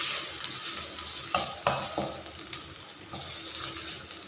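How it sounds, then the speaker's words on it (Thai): Red curry paste is stir-fried with coconut cream in a pan for a spicy bamboo shoot and pork curry, giving a steady sizzle broken by sharp scraping strokes of the spatula, close and clear with no talk. "ผัดไปเรื่อยๆให้หอมถ้าน้ำมันเฮาแห้งๆเนาะก็เติมมันกะทิได้นะใส่กะทิพัดด้วยมันจะได้หอม"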